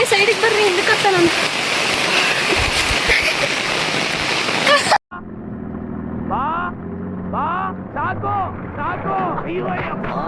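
Rain pours steadily, a dense, loud hiss lasting about five seconds before cutting off abruptly. Other sounds follow after the break.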